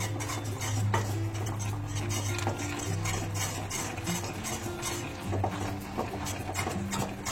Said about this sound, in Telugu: కవ్వం రివర్స్ చేసి తీసుకున్నాను, తడి చేసుకుని ఇది ఒక్కసారి ఇలా పిండి అంతా ఇలా కలుపుకుంటూ